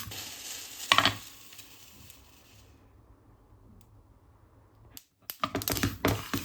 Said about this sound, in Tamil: ஒரு 2 நிமிஷம் சாதாரண எள்ளு ஒரு சூடாக இறக்கினா போதும்